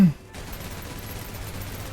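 Sustained automatic gunfire in the video game Snowbreak Containment Zone, a steady, continuous rattle of shots after a brief pause at the start.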